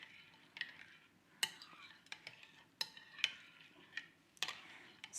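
Utensils clink and tap faintly against a bowl while seafood gazpacho cold soup is stirred, giving a handful of sharp, irregular metallic ticks over a quiet background.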